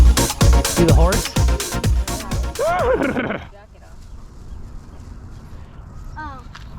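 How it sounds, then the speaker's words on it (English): A horse neighs loudly and close by near a creek, a rising and falling whinny among hoof clops, with people talking over and around it before a quieter stretch and a faint second call. "See the horse?"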